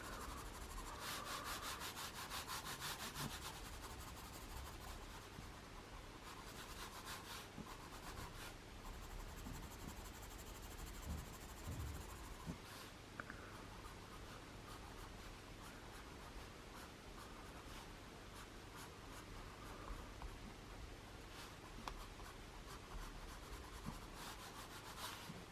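Graphite pencil shading a drawing of a boat on paper, a steady soft rubbing and scratching that runs continuously and close up, with no voices.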